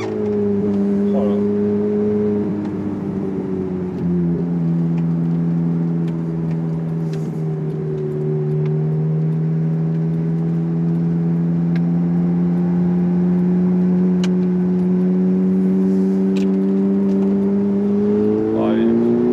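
Engine of a Ferrari F430 rumbling loud and steady throughout, with strong low harmonics that swell slightly as revs rise and fall, close by, with some voice faintly under it.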